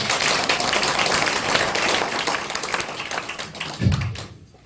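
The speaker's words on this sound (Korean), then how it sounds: "박수 한번 칩자 10분." Lecture audience in a hall giving a round of applause: dense, steady clapping from many hands that carries on evenly, then tapers off with a last thump before fading.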